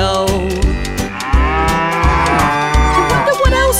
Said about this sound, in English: With a moo-moo here and a moo-moo there, here a moo, there a moo, everywhere a moo moo.